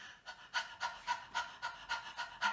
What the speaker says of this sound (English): let's do a little bit of panting